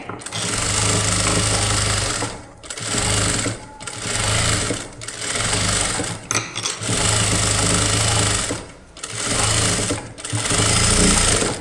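A sewing machine stitches lace onto a kids' crop top, running close and loud in rapid mechanical bursts separated by short pauses.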